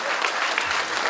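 Audience applause at a dance academy's annual function: a brief, dense burst of steady clapping from a crowd.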